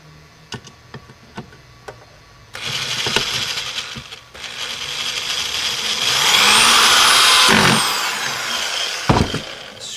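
Small screws driven through a fuse holder into a scrap of plywood, making a steady ratcheting, grinding whir that runs for several seconds after a few sharp clicks, close and fairly loud with no talking.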